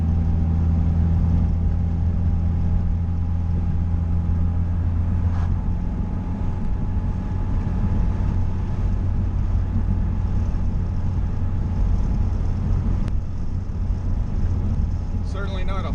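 A 2019 Honda Civic Si on Tein Flex Z suspension drives over bumpy road, a constant low engine and tyre drone heard from inside with a few soft thumps as it rolls over the bumps.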